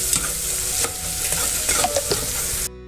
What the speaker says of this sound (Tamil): ஸோ இஞ்சி பூண்டு கொஞ்சம் வதங்கட்டும்.